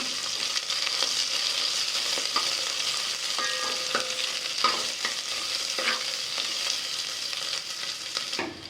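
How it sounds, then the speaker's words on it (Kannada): Chopped onion fries and sizzles steadily in a pan while a spoon stirs it now and then, a continuous close hiss with occasional soft scraping clicks and no talking. "ಈಗ ಈರುಳ್ಳಿ ಫ್ರೈ ಆಗಿದೆ"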